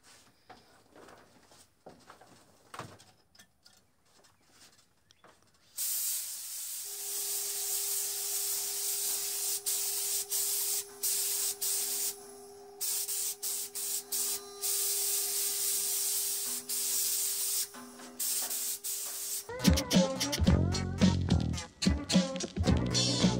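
A paint spray gun coating a DIY-kit Telecaster guitar body, a loud continuous airy hiss starting after a few quiet seconds with a faint steady tone beneath, cutting in and out in short bursts, ending in a harsher rougher rush.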